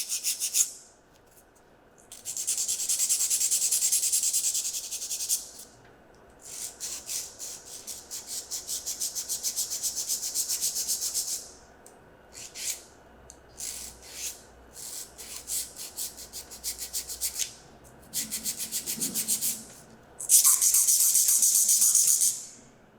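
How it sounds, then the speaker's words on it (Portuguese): An acrylic nail is shaped with a nail file in bursts of rasping strokes, each run lasting a few seconds with short pauses between, close and fairly quiet, with no talking. "E vou limar de forma que fique simétrica uma lateral e a outra."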